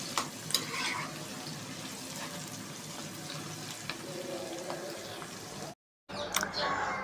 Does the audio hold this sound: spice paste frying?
yes